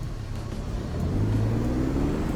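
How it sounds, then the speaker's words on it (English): A Peterbilt truck engine in American Truck Simulator labors up a hill on a dirt track, heard through an open window as a low, steady drone that swells and climbs slightly in pitch. "Let's bring the window down so you guys can hear the engine proper"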